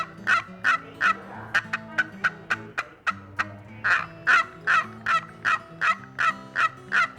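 A wooden turkey box call imitates a Merriam's turkey, producing a rapid run of loud, raspy yelps and clucks in a steady rhythm, close and clear with no talking.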